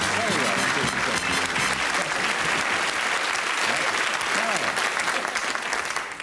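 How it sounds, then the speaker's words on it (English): Steady applause from a small game show panel in a 1978 television studio, continuous clapping filling the whole stretch at moderate loudness with no voices over it. "Thank you for your applause, panel."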